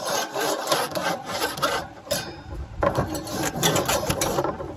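A spring-bristle brush scrubs the grate of a drum smoker in quick back-and-forth strokes, a close, rough metallic rasping with brief pauses between bursts.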